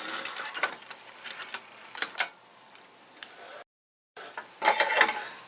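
A sewing machine stitches back and forth in short runs of rapid mechanical ticking, stopping briefly with a moment of silence before whirring up again.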